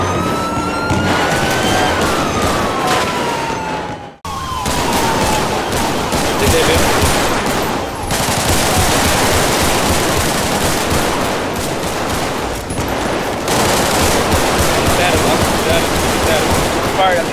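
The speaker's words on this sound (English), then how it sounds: "Several shots fired." Rapid bursts of automatic gunfire and repeated shots in a GTA RP street shootout, loud and close, with a brief gap near the start, sirens and vehicle noise underneath and voices talking over it.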